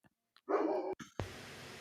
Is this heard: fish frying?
no